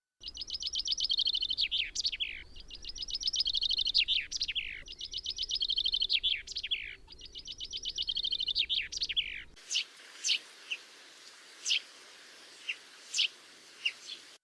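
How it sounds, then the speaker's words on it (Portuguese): A common chaffinch (Fringilla coelebs) sings four clear, loud descending trilled phrases ending in a flourish. A quieter passage of sparse, evenly spaced sharp chirps follows. "Esta espécie canta logo aos primeiros alvores da madrugada."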